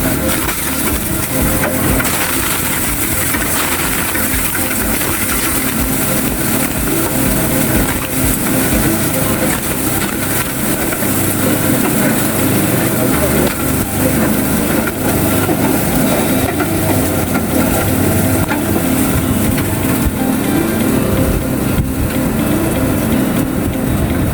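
An egg shell crushing machine runs continuously, a loud dense grinding and rattling churn that holds steady throughout with no pauses.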